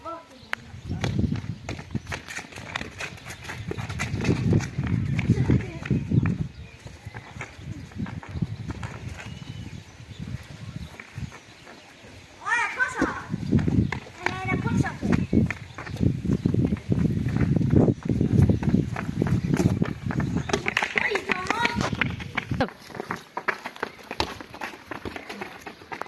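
Horse hooves clip-clop in bursts of steady, close hoofbeats broken by short pauses, with people talking over them much of the time.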